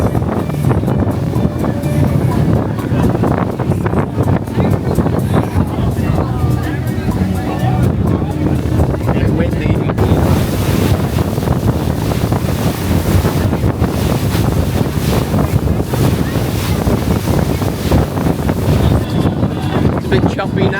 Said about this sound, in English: now we're back on the boat bobbing around